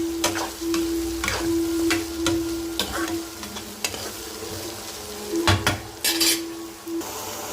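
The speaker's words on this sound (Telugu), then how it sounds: "ఉల్లిపాయ మొత్తం వేసేసుకొని బాగా ఫ్రై చేసేసుకుందాం" Onions fry in a pan with a steady close sizzle, punctuated by repeated scrapes and clanks of a spoon stirring against the metal, with a faint steady hum underneath.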